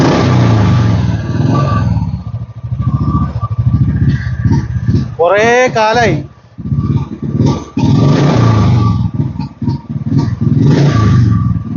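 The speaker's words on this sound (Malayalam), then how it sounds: "വണ്ടി സ്റ്റാർട്ടായി ഗൈസ്." A Royal Enfield Bullet motorcycle, left unused for many days, starts and revs, its engine loud and close, with the idle continuing under steady talk from a man.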